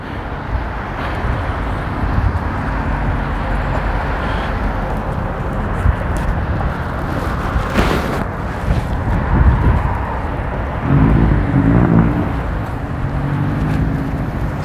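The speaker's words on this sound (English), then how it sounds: "Some traffic going on here." Steady street traffic in Morrow, Georgia, near a Publix shopping center, a continuous broadband wash of passing cars with a brief louder swell partway through and a low rumble toward the end.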